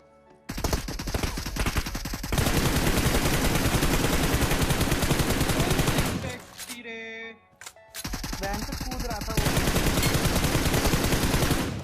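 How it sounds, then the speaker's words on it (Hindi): Gunfire in a video game shootout, with dense, loud bursts of rapid shots filling the clip, a short pause near the middle, then more sustained firing. "सब फायर कर रहे थे तो मैंने भी जो है ऐसा ताव में आके फायर कर दिया।"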